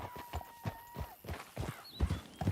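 A horse galloping in a video game, a fast, rhythmic clip-clop of hooves in a canyon, fairly close, with a brief whistling tone and faint game sounds over it.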